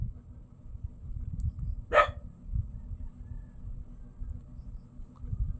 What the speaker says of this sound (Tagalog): tumatahol po ang kapatid ni Papi